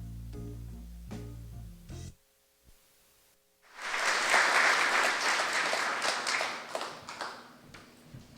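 An audience applauds at the Texas Radio Hall of Fame to welcome Brian Purdy, a full burst of clapping that starts after a short quiet gap and carries on steadily before slowly thinning out.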